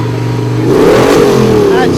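A modified Ford tractor with a Ford V8 engine and big tires, built for pulling, revs hard at a show. A loud, steady engine roar rises and then eases, with crowd chatter and talk underneath.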